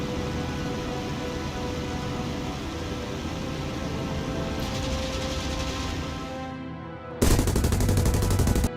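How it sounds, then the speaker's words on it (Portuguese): Cannons and machine guns firing from a Spitfire in the IL-2 Sturmovik combat flight game: a dense, steady rattle of gunfire under engine drone, then a louder, harsher burst near the end. "disparou seus canhões de 20 mm e suas metralhadoras"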